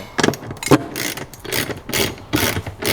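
Drive shaft bolts come out of an R32 GTR Skyline: loud, close ratchet-wrench clicking in quick repeated bursts, with metallic clatter over a steady background hum.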